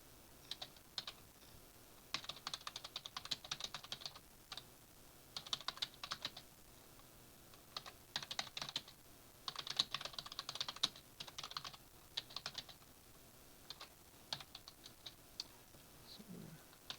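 Quiet typing on a computer keyboard while writing F# code, irregular bursts of light close key clicks separated by short pauses, with no speech over it.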